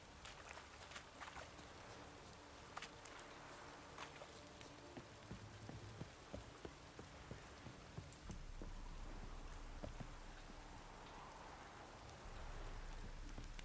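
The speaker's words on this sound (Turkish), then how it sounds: "Hava yağmurlu ya." Steady rainfall in the video game The Witcher 3 Wild Hunt, a continuous hiss of drops on surfaces with scattered sharper patters and occasional faint footsteps.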